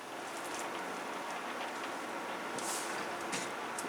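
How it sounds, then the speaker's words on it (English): Steady rain falls outside as an even, close hiss of drops on a surface, continuous and alone with no talk. "I suppose you can hear the rain"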